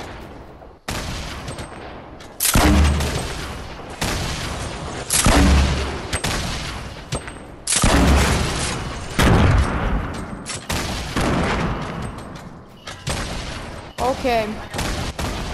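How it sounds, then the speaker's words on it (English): Bursts of rapid gunfire from a Fortnite Battle Royale match ring out in loud, repeated volleys over roughly fifteen seconds, with a player briefly talking in between. "I'm shooting at someone"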